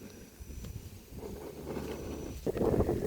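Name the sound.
wind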